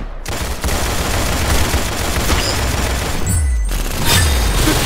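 Rapid gunshots ring out in Sandtown Legacy, a competitive shooter video game, as a dense, loud barrage with a few heavier booms near the end.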